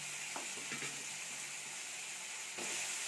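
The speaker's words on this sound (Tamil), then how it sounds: "இப்போ எடுத்து வச்சுருக்க வெண்டைக்காயும் கத்திரிக்காயும் சேர்த்துக்கலாம்." Okra and brinjal sizzle in a pan with softened tomato and onion for a village-style kuzhambu, a steady loud frying hiss with a few stirring scrapes near the start and end.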